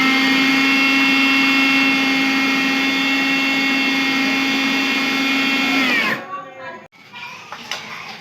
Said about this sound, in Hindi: इस तरह 1-1 चम्मच डालते जाएंगे और ब्लेंड करते जाएंगे।